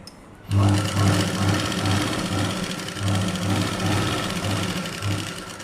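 A sewing machine stitches a 36-inch blouse. It starts abruptly, then runs steadily close by with a rapid, pulsing mechanical chatter for several seconds.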